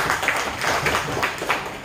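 Meeting audience clapping in a hall, a steady wash of many hands applauding at moderate loudness, continuous for the whole stretch with no speech on top.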